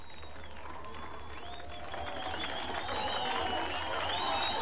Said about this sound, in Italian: I berlinesi dell'ovest applaudono.